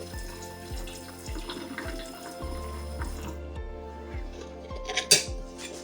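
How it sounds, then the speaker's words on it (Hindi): Water is poured into a bowl to mix batter for a burger coating, a soft steady trickle with faint clinks of utensils and bowl, ending in a brief clatter. "इसको हल्का सा पानी डाल के बैटर बनाते हैं।"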